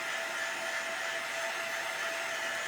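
A hair dryer blows steadily at close range, drying paint on wooden beads, a continuous even whoosh with a faint high whine and no talking.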